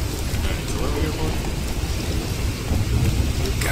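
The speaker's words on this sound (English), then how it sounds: "quite a job creating the storm" Heavy rain pours steadily during a thunderstorm in the video game Witcher 3: The Wild Hunt, with a dense, loud wash of rainfall and low rumbling throughout.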